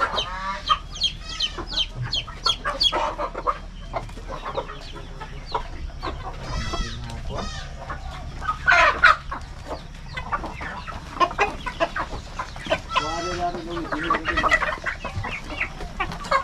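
Backyard farm chickens, hens and roosters, in a rural province cluck repeatedly and close by, with a few louder squawks and a faint crow among them, and no talking.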